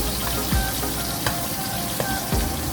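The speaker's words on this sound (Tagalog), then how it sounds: "Add your chopped onion." Chopped onion sizzling in hot oil in a pan, a steady crackling fry with a few soft scrapes and clinks, close and moderately loud, with no talk.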